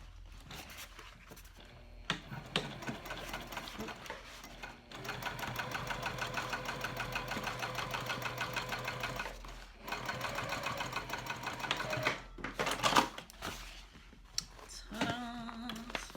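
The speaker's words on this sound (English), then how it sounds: "Finger press well, and then top stitch." A sewing machine top stitches a quilted teddy backpack, running in a steady rapid mechanical whir for several seconds, pausing, then restarting in shorter bursts, close and clear with no talking.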